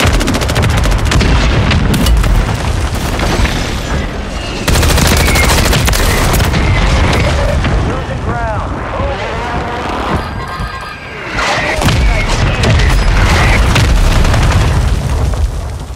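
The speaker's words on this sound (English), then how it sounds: "friendly precision airstrike inbound." A precision airstrike in a video game, loud, close, sustained explosions and booming impacts mixed with rapid gunfire, nearly continuous across the stretch.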